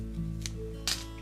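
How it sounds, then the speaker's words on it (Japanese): Scissors cut through thick tulip leaves while a flower arrangement is being prepared, giving two short, crisp snips about half a second apart over a steady low hum. "ちょっと大きすぎたらこの特徴をなるべく損なわないように葉っぱをハサミでスーッと切っていく。"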